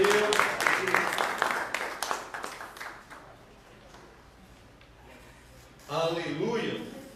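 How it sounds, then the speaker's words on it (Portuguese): A church congregation claps in a burst of dense applause that fades out, then briefly rises again, heard amid reverberant room noise. "Podem aplaudir a Jesus e sentar-se."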